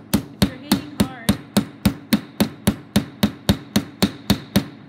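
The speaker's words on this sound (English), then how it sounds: "You're also trying to avoid hammering your whole surface around your rivet." A hammer strikes a metal rivet in a steady even rhythm, about sixteen sharp ringing blows close by and alone, each at similar moderate force.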